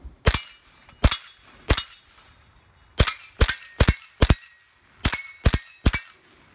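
A Marlin Model 795 .22 rifle fires standard velocity rounds outdoors in ten sharp cracking shots, spaced in uneven groups of three, four and three, each with a short decay.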